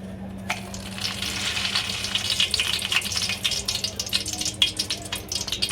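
Butter melting into a large pan of hot oil for pav bhaji gives a bright, close, continuous sizzle that crackles and grows slightly busier as it goes on, with no voices.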